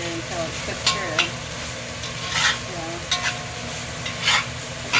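Noodles fry with a steady oily sizzle in a pan while being stirred, with scraping strokes and light clinks of a utensil against the pan recurring every second or so, all close and without talk.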